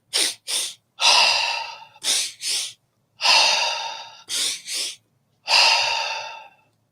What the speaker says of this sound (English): it's 2 quick inhalations through the nose and a sigh out through the mouth.